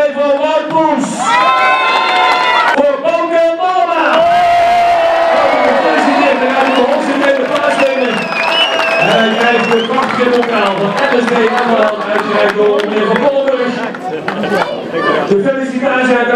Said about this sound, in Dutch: Applaus voor de nummer 2 van Wout Poels